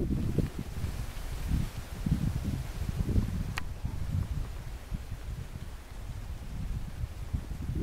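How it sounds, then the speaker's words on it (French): Wind blows outdoors in the Ardennes countryside by a riverbank, a steady low rumble of gusts buffeting the microphone, constant and fairly loud, with faint rustling and no talking. "Il y a du vent."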